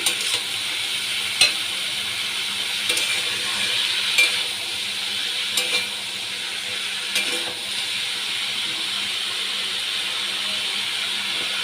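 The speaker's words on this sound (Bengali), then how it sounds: "নুন হলুদ ভালো করে মিশিয়ে নিচ্ছি" Bottle gourd sizzles in a pan as it is stirred with salt and turmeric, a steady frying hiss throughout with faint, evenly spaced utensil scrapes every second or so.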